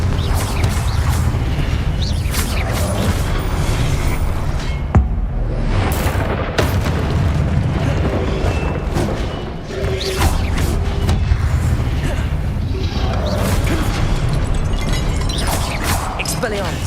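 Spell effects in Hogwarts Legacy during live PC play: a dense, constant wash of booms, blasts and mechanical clatter with sharp crashes throughout. A player shouts spell incantations over the loud, unbroken battle noise.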